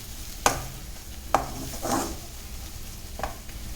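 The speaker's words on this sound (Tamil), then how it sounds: "அதை போட்டு நல்லா வதக்கிக்கோங்க." Mutton with home-ground chilli powder being sautéed in a pan: three or four brief spoon scrapes and stirs over a faint, soft sizzle, no talking.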